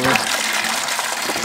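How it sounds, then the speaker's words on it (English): Water drains through a bell siphon in a small aquaponic system holding about five gallons, a steady, loud, hissing gush of flowing water that continues without pause. "water is slowly starting to drain out"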